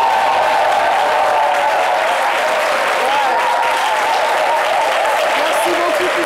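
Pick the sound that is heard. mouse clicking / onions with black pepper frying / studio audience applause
studio audience applause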